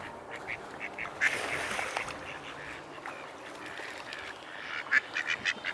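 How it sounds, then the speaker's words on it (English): A few faint duck quacks sound out over quiet outdoor ambience, one early call and a short run of quacks near the end. "ducks, and they're a protected species, of course, so you can't do anything to them."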